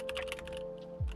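Light, quick keystrokes on a computer keyboard during a coding study session, a short soft patter over a steady background hum, with a dull thump at the end.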